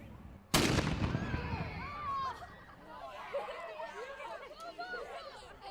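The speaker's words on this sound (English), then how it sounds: "showing the kids how a 6-man crew would basically fire, load, and fire the cannon during the War of 1812 time period" A War of 1812 cannon fired by a six-man crew at a historical demonstration: one sharp, loud blast near the start, then a crowd of voices chattering and children calling out for the rest of the stretch.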